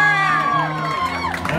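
A crowd cheers and whoops loudly at a Hollywood Walk of Fame star ceremony, with sustained shouting and vocal tones throughout the short burst.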